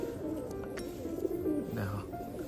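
A pigeon coos softly in low, murmuring calls at a home loft, faint under the surrounding background noise.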